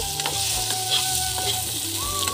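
Tomatoes fry in a pan for a ridge gourd and fish dish, with a loud continuous sizzle and a few stirring scrapes close by, over a faint steady hum.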